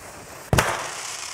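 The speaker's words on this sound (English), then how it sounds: "our mini Meta Firework show." A single sharp firework crack from a small virtual fireworks show in a metaverse space, sounding as a loud burst after near silence and then a lingering crackling hiss that slowly fades.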